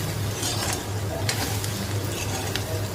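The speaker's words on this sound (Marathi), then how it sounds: "आपला कांदा व्यवस्थित फ्राय झालेला आहे" Onions fry in a pan with curry leaves, a steady close sizzle with occasional light stirring scrapes throughout.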